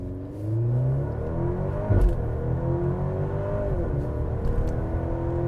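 A Maserati Grecale Modena SUV launches in sport mode, its engine rising through a gear change with a brief thump, then pulling on in a steady, moderately loud climbing hum heard from the cabin.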